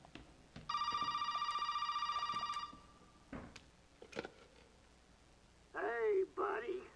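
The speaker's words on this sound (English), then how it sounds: "Phone's ringing." An in-game telephone rings in Resident Evil 7, a loud electronic ringing burst lasting about two seconds, followed by scattered thumps and then a voice speaking briefly near the end.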